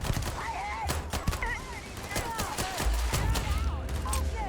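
Rapid gunfire in the sci-fi video game Starfield: a string of sharp, closely spaced shots at moderate volume, mixed with in-game voices.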